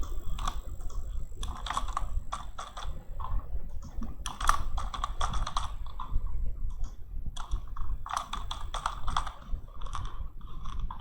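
Steady typing on a computer keyboard, a quick irregular run of light plastic key clicks close by, with short pauses between bursts and no talking.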